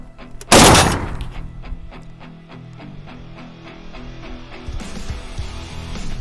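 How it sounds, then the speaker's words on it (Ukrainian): A single loud, sharp launch blast close by from an AGS-17 automatic grenade launcher, followed by a lingering mechanical rattle and hum, with a rougher noisy burst near the end. "Зараз ми спробуємо зробити кілька пострілів"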